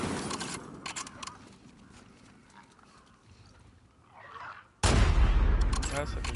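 Gunfire in the video game The Last of Us Part II: after a stretch of quieter rustling ambience, a sudden loud, close blast erupts and is followed by a sustained roar.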